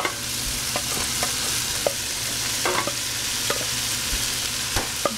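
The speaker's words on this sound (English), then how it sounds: "And put in the leftover rice." Leftover white rice stir-fries in a pan for hedgehog mushroom and broccolini fried rice, a loud steady sizzle with repeated spatula scrapes and taps against the pan.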